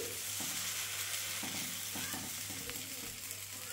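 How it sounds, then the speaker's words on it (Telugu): Dosa cooking on a hot pan without oil, a soft steady sizzle with light scraping or stirring touches, fairly quiet and continuous with no talking. "మూడో దోశ ఫ్రెండ్, వితౌట్ ఆయిల్ వేసాను"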